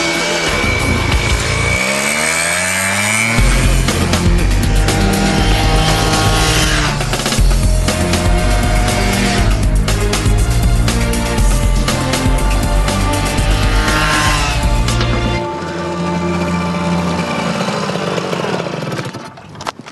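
A car accelerates hard with a loud, strained engine note that rises through gears for about twenty seconds, close and continuous, with no talk.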